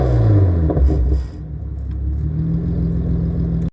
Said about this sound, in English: I'll throw up a clip of what the car does sound like on the screen